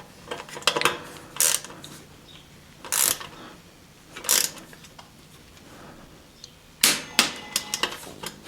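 Torque wrench tightening bottom bracket bolts on a Trek 520 steel touring bike in a workshop, making four separate sharp ratcheting click bursts close by, spaced a second or more apart against quiet background noise.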